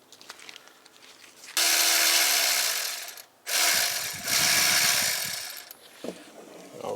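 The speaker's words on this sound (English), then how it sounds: "I got a smaller ratchet to make quicker time of it" Brisk ratcheting of a hand ratchet loosening a bolt on the 4.4L V8 engine of a Land Rover LR3, in two long continuous bursts with a short pause between them, close and loud, followed by lighter handling noises.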